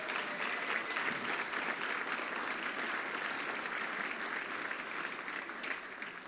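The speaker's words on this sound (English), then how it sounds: "Give yourselves a round of applause." A full room of guests at a military fundraising dinner applauds steadily in dense, sustained clapping that fills the space, easing slightly toward the end.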